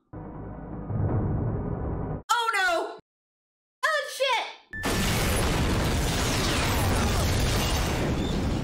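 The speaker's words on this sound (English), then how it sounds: "That was the bomb." A bomb explosion from the 2007 film The Bourne Ultimatum bursts in loud and close, a heavy blast that sustains as a dense roar after short gaps filled by voices and quieter scene sound.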